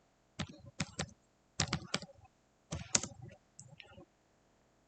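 Fingers typing a caption on a computer keyboard, heard as several quick bursts of clattering keystrokes separated by short pauses, close and fairly soft, with no talking.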